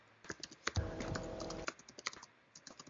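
Someone types on a computer keyboard during a mock interview, with irregular clicking keystrokes and a short steady rattling stretch in the middle, close and fairly quiet.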